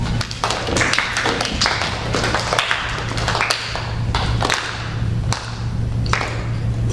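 Audience clapping at a school fable performance, a dense, uneven run of hand claps and taps that carries steadily through the whole stretch, fairly close and moderately loud, with no talk over it.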